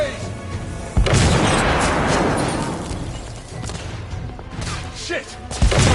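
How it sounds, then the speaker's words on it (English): A grenade explodes in a PS4 video game with a sharp, close boom. A rumbling decay spreads over several seconds, and a smaller thump lands near the end. "Grenade!"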